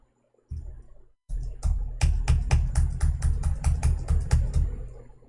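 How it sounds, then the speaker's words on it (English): Computer keyboard clicking, a quick run of about a dozen sharp, close keystrokes in an irregular rhythm, following a few low thumps and a short pause. "this stupid keyboard"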